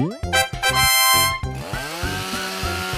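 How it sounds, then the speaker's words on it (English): A chainsaw cuts through large wood logs, its motor buzzing in loud repeated bursts and then revving up to a rising, steady whine with strong harmonic tones. "Chainsaw cuts large wood logs quickly."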